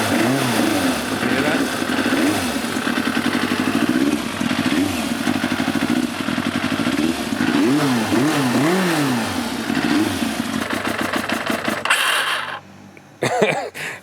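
A Yamaha YZF750 motorcycle with a fuel-starved carburetor setup and no fuel-pump prime cranks and runs roughly with uneven revving for about twelve seconds, then cuts out and dies, leaving near silence with a faint clunk at the end.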